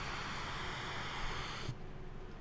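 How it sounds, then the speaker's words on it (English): An idle distortion pedal with no input gives a steady bright hiss and hum of raw noise, constant and loud, then cuts off abruptly near the end. "what you can hear is actually the raw sound of the distortion pedal on its own,"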